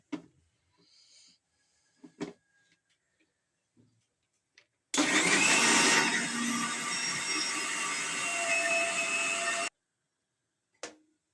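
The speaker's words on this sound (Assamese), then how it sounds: "এতিয়া এইটো মিক্সাৰ মেচিনৰ পাতটো দি দিলোঁ, মাৰি ল'ম" A kitchen mixer grinder whirs loud and steady for about five seconds as it blends medicinal leaves, starting abruptly with a sharp surge and cutting off cleanly, framed by scattered handling clicks and near silence.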